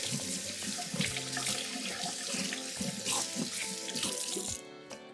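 A tap runs to wet hands while brioche dough is being kneaded, a steady close gushing stream that cuts off just before the end.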